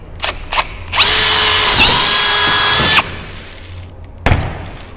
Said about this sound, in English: when the drill bit goes through the wood, it gets hot